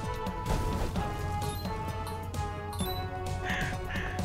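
A crow caws in the Castle Crashers video game, harsh calls rising near the end over continuous game music with a few crashing hits earlier.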